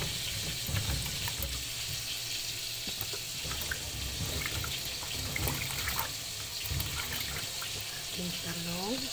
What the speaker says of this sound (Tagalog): Hugasan natin. Ikalawang hugas po.